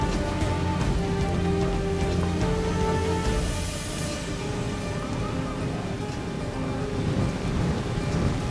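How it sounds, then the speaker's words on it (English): Steady rain hisses across the whole stretch in the strategy game Rome Total Realism, a dense even wash of droplets layered with tonal in-game sounds. "Now it's starting to rain."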